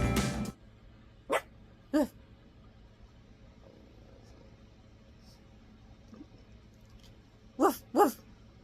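Dogs bark indoors in a bedroom, a few short, separate barks spaced apart, with a close double bark near the end over quiet room noise and a muffled thump at the start.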